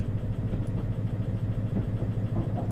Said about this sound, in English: the sound implementation of the engine is pretty good